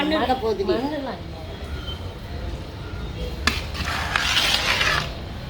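Pearl millet porridge (kambu koozh) is stirred in a pot, with soft scraping and sloshing under a voice at the start, then a brief clatter of a utensil before the stirring goes on.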